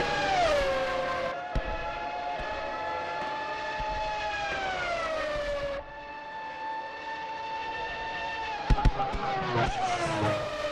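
Formula 1 Legacy R7 race car in a racing sim at Vallelunga, a loud sustained engine whine rising and falling through gear changes as it takes the final corners, with brief tire skids near the end.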